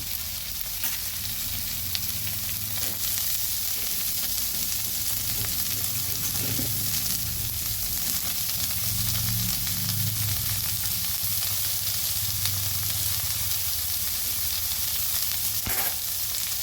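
Potatoes going into a wok of lightly oiled pumpkin flowers for a Bengali chachchari set up a steady, close sizzle that holds evenly the whole way through, with faint stirring and no voices.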